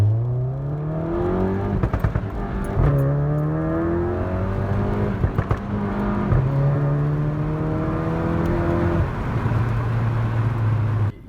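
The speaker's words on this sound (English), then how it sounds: "every time you let go of the gas, that's when you get the burbles" A VW GTI MK7 fitted with a Performance Pro 1 catback exhaust revs through several gear pulls, its loud, near engine tone rising and dropping with crackling pops and burbles between shifts.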